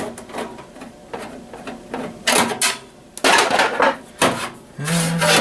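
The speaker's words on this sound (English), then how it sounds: "Let's unscrew the drives." Screws being backed out of drive bays in an old desktop computer case, with scraping, ratcheting screwdriver turns and metallic rubs in irregular close bursts, loud and alone.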